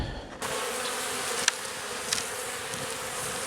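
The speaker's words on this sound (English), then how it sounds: "Get these bees out of here." Honey bees swarm and buzz around an open hive, a dense, steady drone close by with a few sharp clicks and taps mixed in and no voices.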